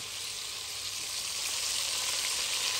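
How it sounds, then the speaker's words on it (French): Smoked sausage and onions frying in a pan, a loud, steady close sizzle that swells slightly over a few seconds, with no talking. "Je mets les oignons."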